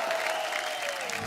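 A studio audience claps and cheers for the Ali Brothers on a comedy talk show, a dense burst of applause with a faint tonal hum underneath.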